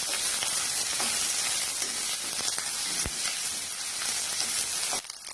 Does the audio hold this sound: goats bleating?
no